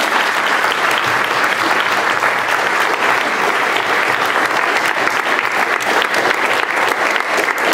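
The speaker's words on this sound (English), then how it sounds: "let's give them a round of applause and thank them" A large audience applauds loudly and steadily, a dense wash of clapping that holds throughout without pause.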